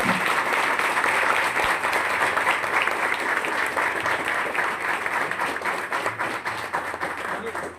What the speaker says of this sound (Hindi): जोरदार तालियां कृष्णा के लिए।